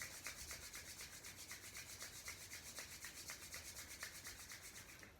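Palms rubbing briskly together in a steady back-and-forth rhythm, a soft dry swishing that repeats about four times a second, close and fairly quiet with no talking, as part of a Kundalini yoga exercise.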